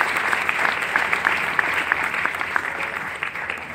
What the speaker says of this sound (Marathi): त्यांच्यासाठी एकदा जोरदार टाळ्यांचा गजर करूया